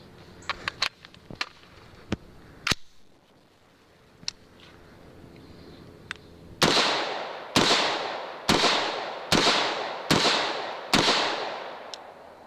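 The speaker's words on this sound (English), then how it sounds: "I'm going to fire this weapon off the tip of my nose." A rifle is fired repeatedly outdoors, first as scattered sharp cracks, then a steady string of about seven loud, close shots with ringing echo tails trailing after each one.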